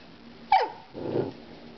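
A small dog barks once on command, a single sharp close yelp followed by a low rumbling growl.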